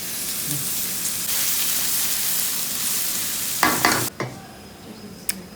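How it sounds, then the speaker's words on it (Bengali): Sliced onions fry in hot oil into crisp beresta for haleem, giving a steady close sizzle. A few sharp scrapes and clatters of stirring come near the end. "এখন এটাকে পেঁয়াজ বেরেস্তা করতেছি"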